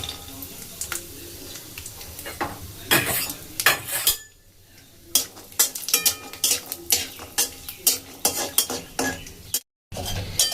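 Peanuts fry in oil over low heat for upma, with a steady soft sizzle under repeated scraping and stirring clatter of a spatula against the pan, close and fairly loud, with a brief silence near the end.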